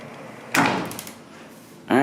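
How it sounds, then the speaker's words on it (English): A sliding wooden bathroom door in a hotel room rolling along its track, two brief close scraping slides separated by a short pause. "the bathroom does have a sliding wooden door"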